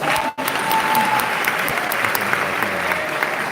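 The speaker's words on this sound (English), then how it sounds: "Clap for yourself." Steady, dense applause from a large crowd at a class of 2025 graduation, continuous throughout with no pauses, loud and filling the space.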